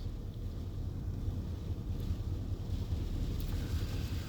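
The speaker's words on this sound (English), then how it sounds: "we've been in a wind and rainstorm here on the Oregon coast for 3 days straight now." Strong wind from a multi-day wind and rainstorm on the Oregon coast, a steady loud roar buffeting the microphone throughout with no let-up.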